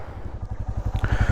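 A motorcycle idles on a cold start, its engine close and loud with a steady, rapid thumping beat that runs throughout.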